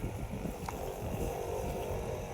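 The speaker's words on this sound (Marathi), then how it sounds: "आपल्याला ही तुटी चालू करायची आणि पंप चालू करायचा" A water pump motor hums and drones continuously at close range, pumping liquid fertilizer to crops, an even mechanical running sound with no pauses.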